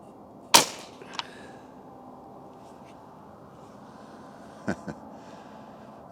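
A Benjamin 392 pump air rifle fires a single sharp shot at a target, followed moments later by a fainter snap and a couple of soft clicks in a quiet outdoor setting.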